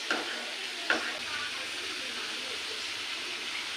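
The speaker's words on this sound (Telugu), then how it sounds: "మొత్తం ఇలా కలుపుకుందాము." Food frying in a pan is stirred and mixed, a steady close sizzle with a couple of sharp spoon scrapes near the start, then continuous crackling alone.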